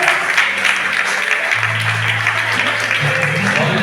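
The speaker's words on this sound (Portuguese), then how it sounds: "Você aplaude o nome de Deus." Church congregation applauding in a steady, dense wash of clapping, with a low sustained tone, likely an organ or keyboard, swelling beneath it partway through.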